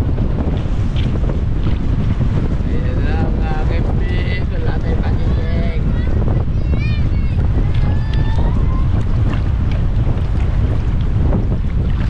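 Strong wind buffets a small fishing boat at sea, a loud constant roar over the microphone with waves beneath, while people shout and talk over it.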